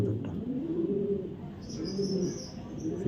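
A fully moulted club racing pigeon offered for sale coos softly in low, repeated murmurs, faint and close, with a thin higher chirp joining partway through.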